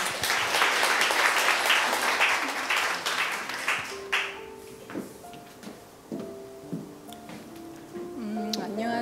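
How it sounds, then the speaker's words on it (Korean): An audience gives a warm round of applause to welcome a guest, loud dense clapping for about four seconds that then thins into scattered claps while speech and faint tonal sounds emerge. "따뜻한 박수로 맞아주시기 바랍니다"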